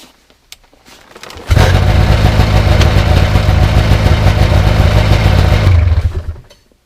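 A two-stroke snowmobile engine, warmed up, catches and runs steadily at a loud, buzzy idle for several seconds before cutting off, with a rough, rattling character.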